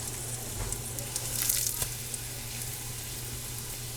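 A beef roast sears in a hot pan with a steady, close sizzle and crackle that holds constant, with a few brief clinks and shifts of the meat.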